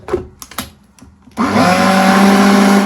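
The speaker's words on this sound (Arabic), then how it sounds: "وهضرب بقى المكونات دي كلها كده مع بعضها تاني" An electric mixer beats cake batter for a chocolate gateau, loud and steady with a constant motorized whir. A few soft clicks come just before the motor starts.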